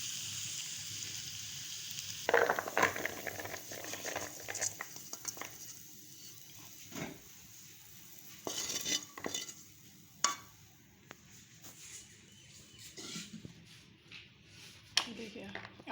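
Spiced chickpeas and potatoes being spooned into a bowl with scattered clinks and scrapes of a spoon against the dish, with soft sizzling from the pan in the background and someone speaking between the movements.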